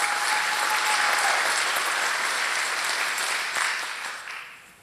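An audience at a sheriff's panel meeting applauds for a woman in the crowd, a full burst of clapping that holds steady for several seconds before tapering off at the end.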